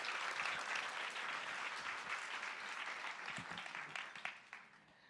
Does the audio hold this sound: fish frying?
no